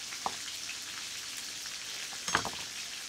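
Garlic sweating in a pan during white wine chicken cooking, a soft, steady sizzle hissing quietly throughout, with two brief clinks or taps standing out, faint and close, no talking.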